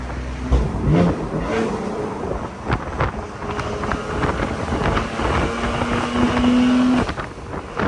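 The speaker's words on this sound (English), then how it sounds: "You can hear the boost leak." A 1,000 hp BMW M4 with a boost leak roars loudly from inside the car during a ride-along, its engine droning and rising under heavy wind rush for about eight seconds.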